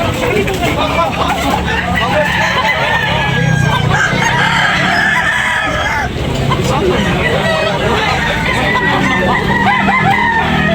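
Several roosters crow over a dense, steady din of clucking fowl, with a busy background of chatter throughout, in Tabunok, Talisay, Cebu.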